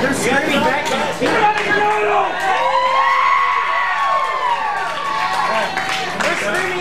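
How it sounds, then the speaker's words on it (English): A crowd at a live wrestling event screams with high, sweeping shrieks that rise and fall over a constant dense roar. Voices are mixed into the din. "They're screaming out of fear."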